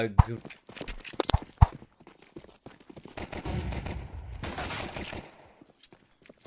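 Counter-Strike 2 match gunfire: sharp bursts of shots near the start, then scattered clicks, footsteps and lighter shots, with a commentator talking over much of it.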